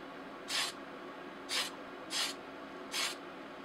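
Four short bursts of aerosol spray paint hiss out in a loose, even rhythm, each about a fraction of a second, close and clear against quiet background.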